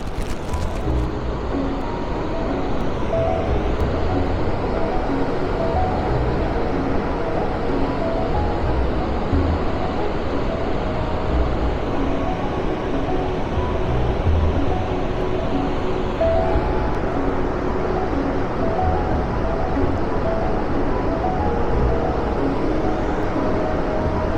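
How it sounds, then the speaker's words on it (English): Niagara Falls roars as a broad, steady rushing of water, loud and constant throughout with no voices. "Look at them there falls."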